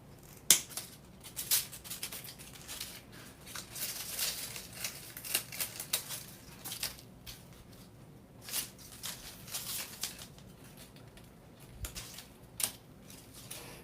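Scissors snip through material in a Halloween pumpkin-and-skeleton centerpiece craft setting, a steady series of close, crisp cuts spread over the whole stretch with short pauses and no talking.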